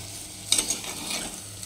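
Chicken curry being stirred through hot oil in a pot, a soft scraping sizzle with a couple of brief spoon knocks, close and fairly quiet with no talking.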